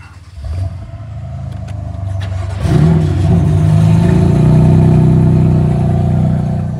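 A BMW engine cold-starts at dawn: a starter cranks briefly, the engine catches with a loud rev, then settles into a deep, steady high idle close by.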